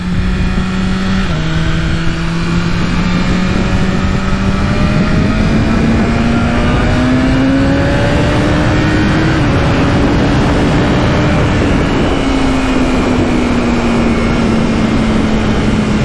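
A BMW S1000RR superbike engine runs under way, its tone climbing steadily over the first several seconds and then holding and easing slightly, beneath constant loud wind rush.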